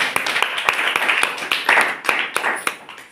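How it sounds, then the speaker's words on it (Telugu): Wedding guests clap together in a fast, steady rhythm. The claps are loud, evenly spaced and sharp, with no voices on top. "గట్టిగా చప్పట్లు కొడదాం."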